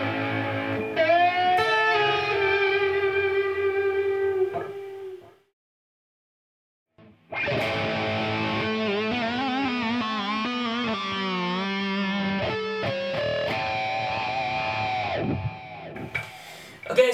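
Electric guitar playing a blues lick in A with whammy bar bends, sliding chromatically down; two sustained phrases separated by a short silence, played alone and close.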